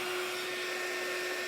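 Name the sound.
heat gun drying paint on shim Christmas tree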